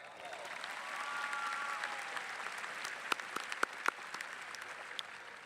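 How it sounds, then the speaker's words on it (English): Graduation audience applauding at a high school ceremony, a sustained wash of many hands clapping at moderate distance with a few sharper nearby claps toward the end. "please join me in recognizing all of these special guests with a round of applause"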